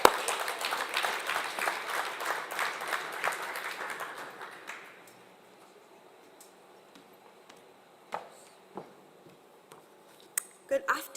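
An audience claps at a science centre's ten-year anniversary celebration in Nelson Mandela Bay, a moderate burst that fades out after about five seconds, followed by quiet room noise and a few scattered knocks and clatters.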